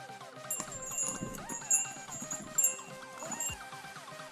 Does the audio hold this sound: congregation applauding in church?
no